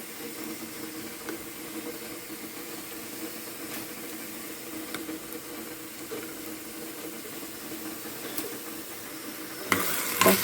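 Chopped vegetables and garlic sizzle steadily in a hot pan as a fried base for soup, a constant close hiss with occasional soft scrapes of stirring.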